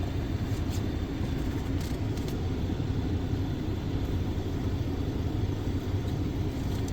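A 2022 Ford Maverick XL Crew Cab idles with a steady, continuous low engine rumble that holds even throughout, close by and without talk.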